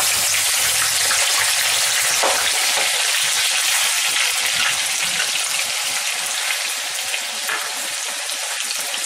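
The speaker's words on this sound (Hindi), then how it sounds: "अब हम ये प्याज की पेस्ट इसमें डालते हैं।" Onion paste frying in hot oil for a hotel-style shahi paneer, giving a loud, steady, dense sizzle that runs without a break, with a few brief crackling bursts and no voices.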